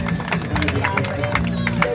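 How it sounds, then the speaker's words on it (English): A crowd at a home baseball game claps and cheers, a dense patter of applause with scattered shouts lasting a couple of seconds beneath a public-address voice. "Give him a round of applause, folks."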